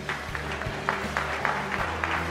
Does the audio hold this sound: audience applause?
yes